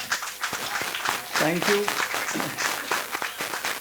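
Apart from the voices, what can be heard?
applause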